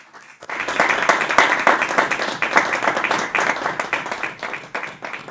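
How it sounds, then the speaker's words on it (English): Audience at the close of an evening lecture bursting into applause, a sudden onset of dense, sustained clapping from many hands that stays loud and even throughout. "a big thank you to you, and applause"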